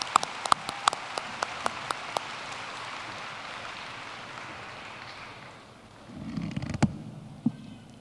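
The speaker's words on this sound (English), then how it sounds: "Please join me in a round of applause for this year's award winners" Applause for award winners at a Green River College commencement ceremony, a steady crowd of clapping from a distance with a few sharp nearby claps, fading out before a brief rustle and knock.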